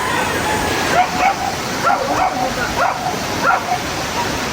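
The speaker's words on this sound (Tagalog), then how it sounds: "May aso dun sa likod." A dog whimpers and gives a few short yips and barks at a distance, repeated in bursts over a steady rushing background of a nearby river.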